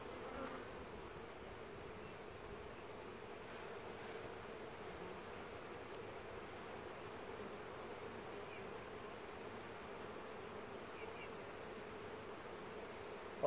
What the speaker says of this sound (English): this is how I'm going to get all the bees back in the hive